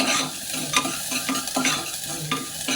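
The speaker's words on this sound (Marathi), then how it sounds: "कांदा चांगला पण परतून घेऊया, मस्तपैकी बारीक, जरासा मऊ होऊ देऊया." Chopped onion being sautéed and stirred in a pan for daliya, with a steady sizzle and periodic scraping strokes of a spoon every half second or so, close and fairly loud, with no voices.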